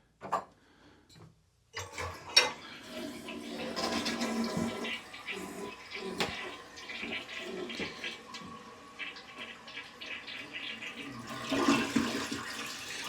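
Kohler toilet in a hotel bathroom flushing with a loud whoosh of rushing water that settles into a steady gurgling refill, close and sustained for several seconds.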